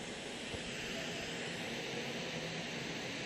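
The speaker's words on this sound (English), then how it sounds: "There's the noise from the fan as under heavy loads or working." Cooling fan of an HP Envy x360 Ryzen laptop under heavy load, a steady broadband whoosh like rushing air, constant and fairly faint, with no speech.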